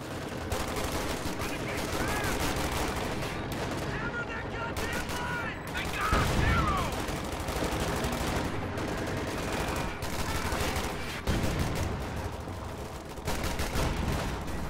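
Gunfire and explosions in a WWII strategy game battle, a continuous busy mix of scattered shots and bursts with heavier thumps near the middle, running steadily throughout.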